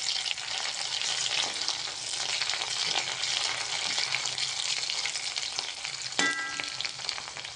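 Curry leaves frying with softened onions in a pan give off a steady, close hiss and crackle, with occasional stirring scrapes and a brief clink of utensil near the end.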